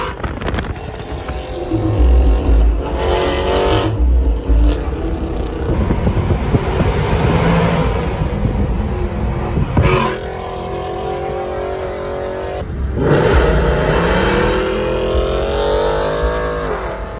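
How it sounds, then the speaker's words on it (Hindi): Car engine revving while driving, a steady loud motor roar with rising pitch sweeps and wind buffeting on the microphone, running continuously for the whole stretch. "मिकी मिकी तू ही गाड़ी चला"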